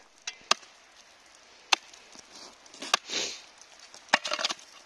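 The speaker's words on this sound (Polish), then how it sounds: "Jest tego dziobania kilofem." A pickaxe strikes packed snow on a railway track in sharp, irregular chips, with scraping and crunching between blows, close and fairly quiet.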